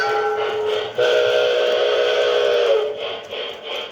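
A Proto 1 model train whistle sounds steadily and fairly loudly on its own, a sustained multi-tone blow that swells at about one second, holds, then wavers and tapers off near the end.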